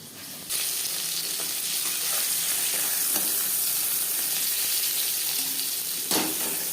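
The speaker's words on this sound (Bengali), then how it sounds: "প্রথম ব্যাচে মাছ ভাজা হয়ে গেছে একটা পাত্রে উঠিয়ে নেব" Pieces of bata fish frying in hot oil in a pan, a loud, continuous sizzle and crackle that starts abruptly and holds steady, with occasional stirring scrapes.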